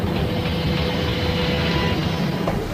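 A roller coaster train launches with water dummies aboard, giving a steady, loud rumbling roar of wheels on track that holds evenly throughout, with a faint rising whine near the end.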